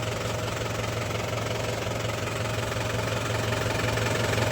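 A tractor engine runs steadily nearby, a loud, continuous knocking rumble with a constant low drone and no pauses or voices.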